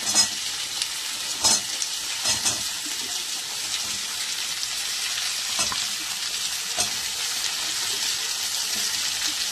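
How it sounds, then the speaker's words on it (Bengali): Potatoes and mixed vegetables sizzling in a pan while being stirred, a steady hiss of frying broken by intermittent scraping knocks of the spatula, close and continuous with no talking. "নাড়াচাড়া করে নেবো। আলুটাকে ভাজাটা একটু ভেজে নেবো।"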